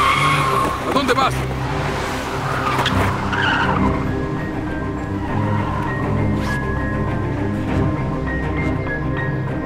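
Stolen car speeding away in a dubbed drama scene: a loud, close engine roar with sustained screeching tire squeal in the first seconds, then the engine revving away under continuing background noise, with voices mixed in.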